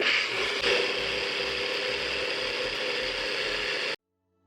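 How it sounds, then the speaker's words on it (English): NutriBullet blender whirring steadily as it mixes a honey protein icing, a loud continuous motor drone with a rattling, grinding texture that runs for about four seconds and then cuts off abruptly. "Now we use our friendly NutriBullet and mix everything."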